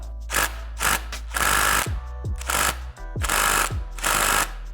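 Pneumatic impact gun on the clutch hub nut of a Suzuki RM250 two-stroke engine, loud close bursts of rapid hammering repeated several times with brief pauses and motor whine between.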